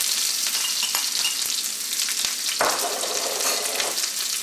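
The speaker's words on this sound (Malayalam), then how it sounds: "ഈ സവോള വെളിച്ചെണ്ണയിൽ കിടന്ന് നന്നായിട്ട് മുരിയണം." Onion, green chilli and curry leaves fry in hot coconut oil for a Kerala tomato theeyal curry. The sizzle is loud, close and steady throughout, with a brief swell of spattering midway as the pan is stirred.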